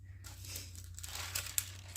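A sheet of wax paper crinkles softly as it is laid down while tortillas are made, a faint, brief rustle with a couple of small crackles near the end.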